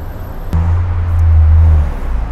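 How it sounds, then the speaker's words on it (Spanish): Renault Twizy's cooling fan runs while the car charges, giving a steady low electric hum with a faint click near the start. "Es un ventilador que viene procedente del sistema del vehículo."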